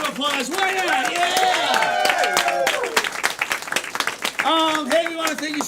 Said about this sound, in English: Let's keep that applause going for all our volunteers that helped us out tonight